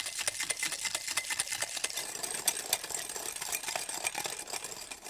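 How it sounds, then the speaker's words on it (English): Egg yolks whisked by hand in a bowl, a quiet, fast, steady rhythmic clicking and scraping of the whisk against the bowl, heard alone without talk. "Just whisk away to make them just lighter and slightly fluffier."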